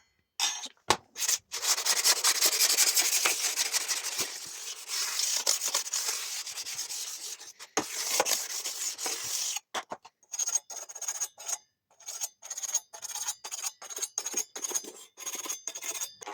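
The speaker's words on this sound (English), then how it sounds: "get your clean whetstone, just lightly take all these burrs off" Clean whetstone rubbing burrs off the blades of a STIHL HS 45 hedge trimmer, a close, steady abrasive scraping that runs continuously at first, then breaks into short repeated strokes.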